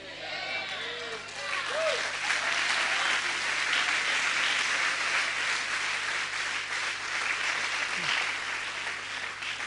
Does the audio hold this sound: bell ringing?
no